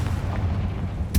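In Hogwarts Legacy, a Confringo fire spell goes off as a loud, close explosive boom over a steady low rumble, ending in a sharp burst near the finish.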